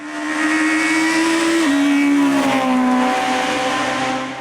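A Ford Mustang race car engine drones steadily and loudly at a 2013 hill climb in Wangenbourg-Engenthal, its pitch shifting down a couple of times as if changing gears, with no voices.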